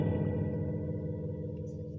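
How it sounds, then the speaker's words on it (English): Guitar note through a Dirtbox Layouts Ghost Echo pedal with reverb mixed into the delay, a sustained washy tone that slowly fades, played alone. "that's mixing the reverb in with the delay in with the reverb chip"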